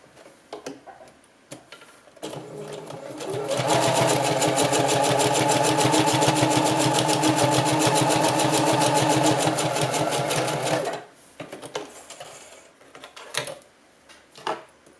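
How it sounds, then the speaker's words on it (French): A sewing machine stitches along folded bias tape in one continuous run of about seven seconds, its fast, even mechanical ticking loud and close, with quieter handling sounds before and after. "Je vais venir coudre une nervure d'un bout à l'autre."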